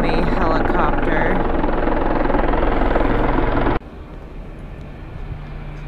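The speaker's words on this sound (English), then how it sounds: "excuse me, helicopter" A helicopter flying overhead in a city, a loud, dense rotor roar that cuts to a quieter distant rumble partway through, with a voice speaking briefly at the start.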